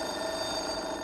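A telephone ringing indoors at home: a steady electronic ring tone, sustained and moderately loud for the whole moment, with no talk over it.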